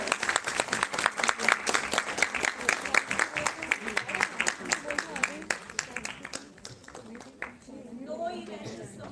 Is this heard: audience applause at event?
yes